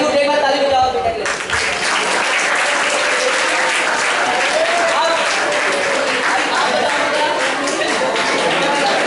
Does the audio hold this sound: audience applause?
yes